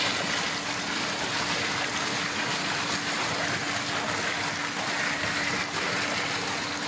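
Water gushes from the 5-inch pipe of a 16-panel solar tubewell in rural Punjab, a loud, steady, continuous rush with a faint constant hum underneath.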